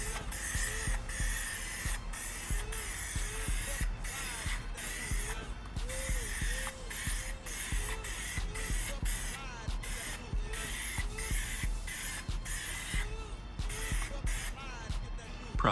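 A spray gun lays clear coat onto Mustang wheels with a steady hiss in short bursts, and faint mechanical ticks and rubbing sounds run between the passes.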